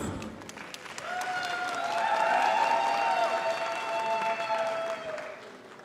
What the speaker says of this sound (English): Please give a big round of applause to Pandya family.